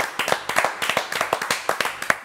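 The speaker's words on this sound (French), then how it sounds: "Allez, applaudissements pour" Rhythmic hand clapping from a small theatre talk-show audience, a dozen or so sharp close claps in a steady pulse.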